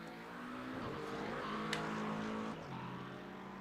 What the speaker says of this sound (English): that high-strung McLaren sounding so different to the bellowing V8 of that AMG mill up under the hood of that Mercedes